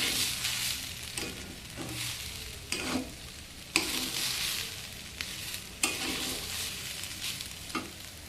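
Polao rice with turmeric powder fries in a wok for bhuna khichuri, giving a steady close sizzle broken by several scraping stirs of a spatula, with no talking.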